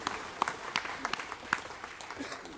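A church congregation at a Sunday worship service claps in a short burst of applause, scattered hand claps at a moderate distance with a faint voice underneath.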